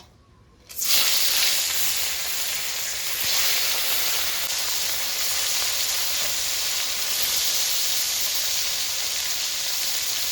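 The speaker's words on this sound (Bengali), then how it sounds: "মাছগুলো এবার ভেজে নেব" After a brief quiet moment, a loud, steady sizzle bursts up and continues as catla fish fry in hot oil close by.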